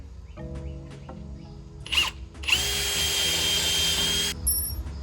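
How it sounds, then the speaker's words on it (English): A hammer drill with a concrete bit runs in a brief spurt, then drills steadily into concrete for about two seconds before stopping, close and loud. "put in the concrete bit, change this to hammer, and drill those"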